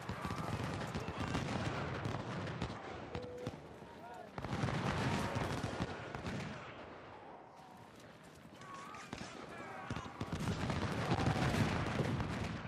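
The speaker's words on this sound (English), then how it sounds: "I want as much canister fire as I can possibly deliver." Cannon fire from artillery shooting canister rounds in the Civil War strategy game Ultimate General: Civil War, heard as a dense, continuous barrage of booming shots and crackling gunfire that swells and dips, with a voice talking over it.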